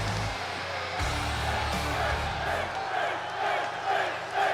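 Wrestling crowd roaring and cheering for Finn Balor before his match with Bobby Roode, a loud sustained mass of voices with whoops and chanting swells, a low rumble dropping out partway through.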